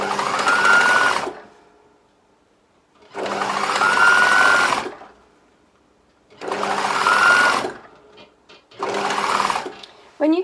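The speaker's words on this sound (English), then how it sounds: "I'm going to just sew all the way around the jacket" A sewing machine stitches binding around the edge of a jacket in four steady whirring runs of one to two seconds each, separated by short pauses, loud and close.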